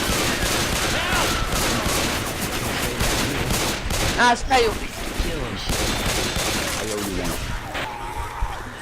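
Rapid bursts of gunfire from the video game Left 4 Dead 2 rattle almost continuously, with someone speaking briefly over the shooting.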